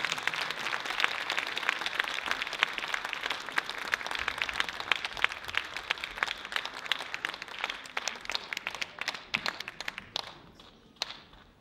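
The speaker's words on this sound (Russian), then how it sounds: "Под ваши бурные аплодисменты." An audience at a children's and youth music competition gala concert applauds with loud, busy clapping that holds for several seconds, then thins out to a few scattered claps and stops.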